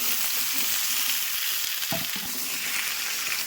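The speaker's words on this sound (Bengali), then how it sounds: "এবারে ডুমো ডুমো করে কেটে রাখা চাল কুমড়াগুলি দিয়ে দেবো।" Diced ash gourd drops into hot oil tempered with bay leaf, dried red chilli and whole cumin, giving a steady close sizzle with a soft stirring knock partway through and no talk.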